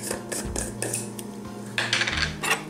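A metal spoon clinks and scrapes against a jar and dish while scooping creamy peanut butter, several short sharp taps and scrapes close by with no talking.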